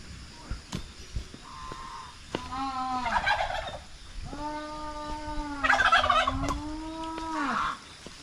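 Several turkeys on a farm gobble loudly and repeatedly, their long wavering calls overlapping near the listener against quiet farmyard background, with no talking.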